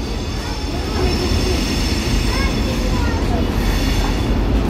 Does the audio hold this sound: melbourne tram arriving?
yes